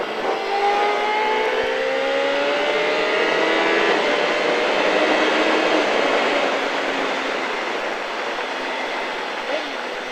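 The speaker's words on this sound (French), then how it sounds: "Allez, on accélère." A car accelerating on the Le Vigeant race circuit, a steady engine roar rising in pitch from inside the cabin, loud and continuous for the whole stretch.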